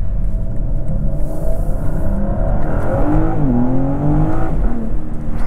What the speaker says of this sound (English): I just love the crack, the little whip crack on the upshift.